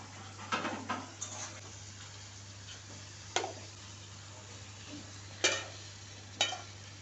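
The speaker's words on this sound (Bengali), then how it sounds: "মশলা থেকে তেল ছেড়ে আসলে দিয়ে দেব ম্যারিনেট করে রাখা চিকেনটাকে" Marinated chicken is added to sizzling masala in a pan and stirred, with a soft background sizzle broken by several sharp clinks and scrapes of a spoon.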